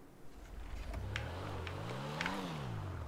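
A Pfister Comet SR street racer car in the video game GTA hums quietly and smoothly, engine tone rising and falling gently as it revs, faint and without speech.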